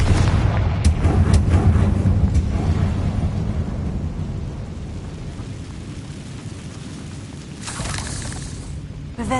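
A Confringo blasting spell from the Hogwarts video game erupts in a loud, booming explosion with rumbling low end that slowly decays, followed by a second burst near the end.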